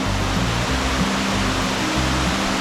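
Steady, loud broadband rush of falling water at the Eolgol valley waterfall in Korea, a continuous roar heard close up and alone, with no talk over it.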